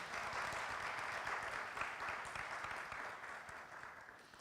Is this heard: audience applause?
yes